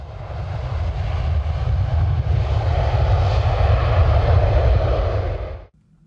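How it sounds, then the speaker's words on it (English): A jet aircraft flies past as a steady, loud broadband engine roar with a deep low rumble, holding for about five and a half seconds before cutting off abruptly. "What do you say we hop in the jet and check out someplace interesting?"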